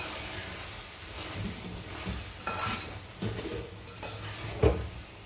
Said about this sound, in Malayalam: കണ്ടോ, ശരിക്കും ഫ്രൈ ആയി വരട്ടി.